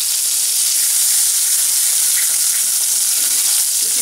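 Ingredients splutter and sizzle in hot oil for a cabbage and green peas sabji, just before crushed ginger goes in; a steady, loud, close frying hiss runs throughout with no voices.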